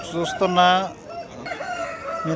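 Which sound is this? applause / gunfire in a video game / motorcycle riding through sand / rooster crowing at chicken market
rooster crowing at chicken market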